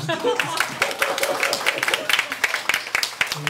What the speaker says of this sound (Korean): 먼저 격려의 박수를 하고 좀